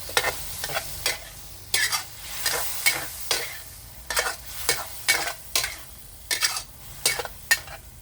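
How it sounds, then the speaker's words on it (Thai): Chicken and okra stir-fried in oyster sauce over high heat: a steady sizzle under repeated spatula scrapes and clinks against the pan, irregular but frequent, close, with no talk. "ผัดง่าย ๆกระเจี๊ยบเขียว"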